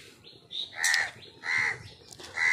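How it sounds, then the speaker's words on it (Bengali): A crow caws repeatedly outdoors, harsh calls in short bursts about half a second apart, loud and fairly close over quiet background noise. "কাক এইদিকে ওইদিকে ডাকলে কি করে শুনবে?"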